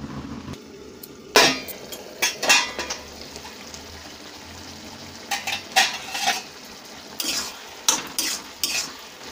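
Small chuno fish curry being stirred in a pan: scattered scraping stirs and clinks of a spoon against metal over a low, soft sizzle, coming in separate bursts with quiet gaps between, close by and alone without talk.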